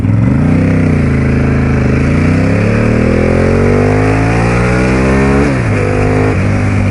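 A loud, close Ducati 848 sport motorcycle engine revs, pitch climbing steadily, then briefly drops and surges again, a throaty, continuous roar.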